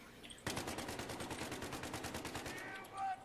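Unsuppressed weapon fire in the Battlefield video game: a sudden rapid automatic burst of evenly spaced shots, loud and sustained for about two seconds, then trailing off.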